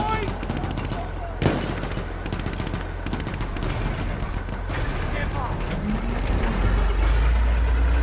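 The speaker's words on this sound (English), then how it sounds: "Machine gun." Battlefield video game combat with rapid machine gun bursts and scattered shots over a heavy low engine rumble of armor, a sharp crack near the start, and voices talking at times over the din.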